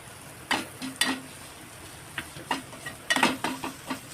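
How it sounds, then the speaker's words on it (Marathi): Ground roasted masala paste is sautéed in hot oil in a pan for a Maharashtrian whole masoor usal, with a spoon scraping and stirring in irregular strokes over a steady low sizzle. "छानपैकी तेलामध्ये परतून घ्यायचं"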